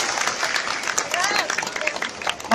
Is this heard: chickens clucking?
no